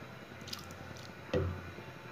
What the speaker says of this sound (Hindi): अब इसमें हम अपने चावल जो हमने धो कर रखे हुए थे वो ऐड करेंगे।